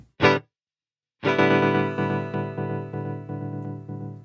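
Electric guitar run through a Sequential Pro 2 synthesizer as a distortion processor: a brief distorted stab, a short silence, then a sustained gritty chord with rhythmic re-attacks, loud and close.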